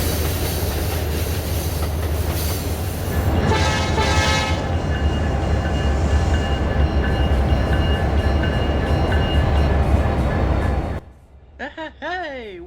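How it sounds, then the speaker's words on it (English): A train rumbles along the rails loudly and steadily with rhythmic clacking, then cuts off abruptly, followed by brief talk. "Brandon and Angel Ace just delivered an intermodal train to Industrial Wasteland where Bridget and Jaden were waiting for the"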